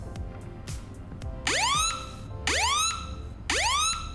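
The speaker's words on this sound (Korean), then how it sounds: "기존에는 버튼 5번 눌러서 전화 걸기를 하게 되면 아주 요란한 사이렌 소리도 같이 나왔거든요" A piercing iPhone emergency SOS siren repeats three times in rising whoops, each burst loud and close, with quieter clicks and beeps leading in.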